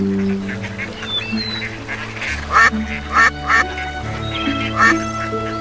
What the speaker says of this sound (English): Listen, can you hear the ducks?